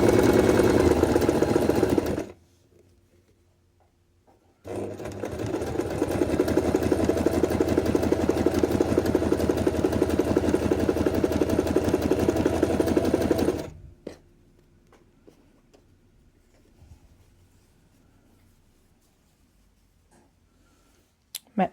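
A sewing machine stitches quilt pieces together with a quarter-inch seam. It runs in a short burst, pauses, then makes one long steady run of rapid mechanical hum before it stops. Near and fairly loud, followed by quiet handling.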